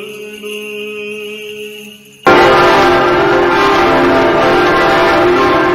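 Large church bells peal from the tall bell tower of Hadâmbu Monastery, first as sustained ringing tones, then a loud burst of clanging bells that fills the air and continues without pause.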